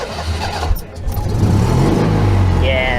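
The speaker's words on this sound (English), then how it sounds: "I'll just turn the key and start it" An air-cooled Citroen car engine cranks, catches and revs up, running loud and close with a steady low rumble as people talk over it.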